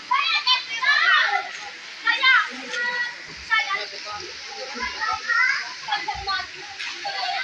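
Children shouting, laughing and chattering happily while bathing at Pikkan Falls swimming spot in Dingras, Ilocos Norte, bursts of high voices rising and falling over a soft background of running water, fairly close.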